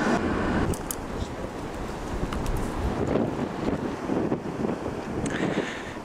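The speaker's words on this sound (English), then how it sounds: "it's been very windy." Strong winter storm wind in Britain roars steadily against the microphone in loud, continuous gusts, with faint voices under the rumble.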